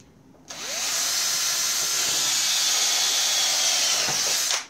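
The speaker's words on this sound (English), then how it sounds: "The drill is running and it is drilling," A cordless drill converted to corded power bores into a wooden plank, a loud steady whirring grind that holds for about four seconds before cutting off abruptly, close up with no talking.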